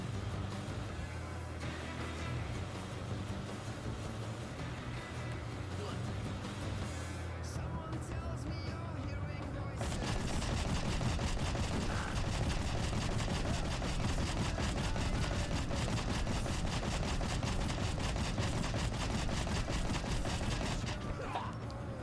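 Rapid gunfire from gun juggling in Rocketbirds: Hardboiled Chicken, a dense, continuous fusillade of shots over game music that grows louder and busier about halfway through.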